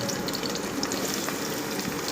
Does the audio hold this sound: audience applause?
no